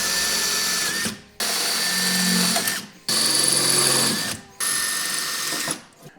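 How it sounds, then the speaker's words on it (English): Power drill boring four holes into a factory outer tube while fitting running boards, heard as four loud, steady bursts of whining drilling separated by short pauses. "We just need to drill into the factory outer tube."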